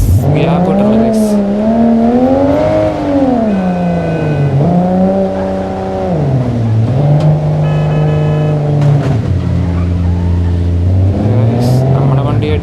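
A Toyota Supra driving on a rainy road, its engine rising and falling in pitch through the gear shifts, loud and close, with a voice talking over it.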